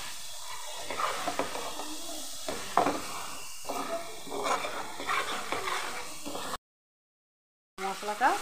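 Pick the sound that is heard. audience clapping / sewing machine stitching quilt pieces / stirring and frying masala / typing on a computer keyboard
stirring and frying masala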